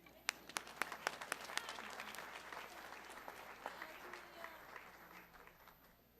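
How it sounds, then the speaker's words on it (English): An awards ceremony audience at a college honors event breaks into applause, with crisp individual claps at first blending into a steady, moderately distant round that gradually thins out. "Round of applause."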